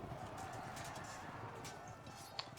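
Light horse cavalry hooves in the strategy game Field of Glory II make a steady, busy clip-clop over a dense battle ambience, with a short sharp click near the end.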